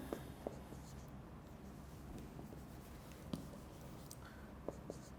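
Marker or chalk strokes on a classroom board, soft scratchy taps and short scraping marks spaced irregularly over a faint steady room hiss, with no talking.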